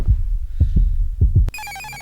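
Heartbeat effect from a horror video game: low, thudding double beats repeating steadily and up close, ending abruptly in a short, bright ringing electronic chime.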